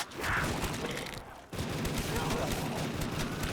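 SMG fire in a Call of Duty zombies match, rapid bursts of shots crackling densely with a brief pause midway, fairly loud, with faint talk underneath.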